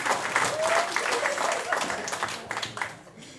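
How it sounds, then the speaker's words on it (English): Audience applause at a tribute event, a burst of clapping from a crowd that fades over a few seconds, with some voices mixed in. "Can we have a round of applause for Rod?"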